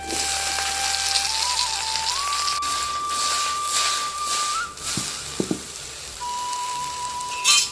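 Gourd leaves tossed into a frying pan with garlic and potato give off a loud, steady sizzle that hisses on throughout, with a few brief clicks and no voices.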